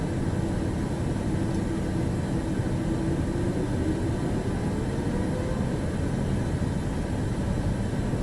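An airliner's engines roaring in a steady, loud, continuous drone during takeoff in Microsoft Flight Simulator 2024, with a faint rising whine underneath.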